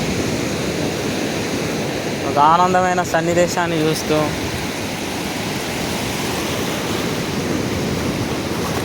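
Sea waves at Suryalanka beach, Bapatla, produce a steady broad wash of surf, loud and continuous, with someone briefly speaking over it partway through.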